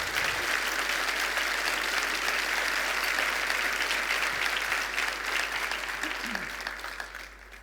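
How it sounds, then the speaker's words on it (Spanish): A church congregation applauds loudly for the Lord during a sermon, a thick wash of clapping that holds steady and then thins out at the end, with faint voices underneath. "Dale un aplauso fuerte al Señor."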